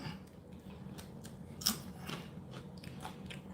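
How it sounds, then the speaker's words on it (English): Crisp, close crunching of Aji Delight peppers being cut and deseeded, soft intermittent snips with one sharper crack midway, over a low steady background hum. "I need to deseed these."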